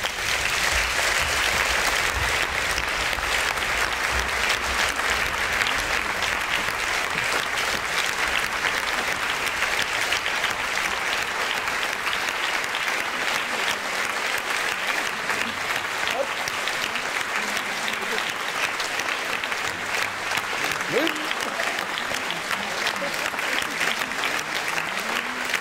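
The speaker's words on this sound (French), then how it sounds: "Merci de les applaudir." Steady, loud applause from a theatre audience at a season presentation continues unbroken for about twenty-five seconds, with faint voices mixed in.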